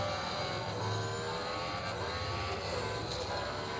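A car engine in a mobile racing video game drones steadily at moderate volume, with a continuous whine that rises and dips slightly as the race goes on.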